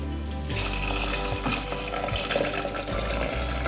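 Three cups of vegetable stock, made from powder and water, poured steadily into a bowl for pea and mushroom risotto: a continuous close liquid pour and splash running through the whole stretch with no talk.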